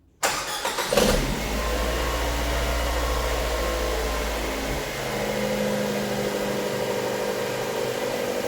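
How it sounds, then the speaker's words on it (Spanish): A car engine cleaned with WD-40 degreaser cranks briefly and fires up, then settles into a steady, even idle that carries on close and loud, with no talk. "procedo a encender el motor de este auto"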